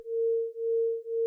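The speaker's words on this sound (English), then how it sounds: "Now what you hear is this sine wave that's actually only at 1 hertz coming out" A steady pure sine tone, amplitude modulated at 1 hertz in Max for Live, swells and dips smoothly in regular pulses, alone and clean with no other sound.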